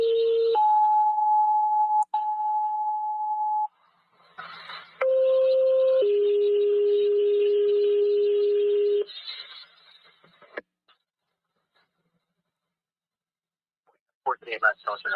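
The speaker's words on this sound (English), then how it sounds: "9 tones for notification." Police radio scanner sounding dispatch notification tones: a sequence of steady pitched beeps stepping between pitches, each held for a second or more, loud and clear, followed by radio static bursts and quiet.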